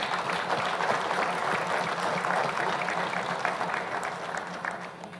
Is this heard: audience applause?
yes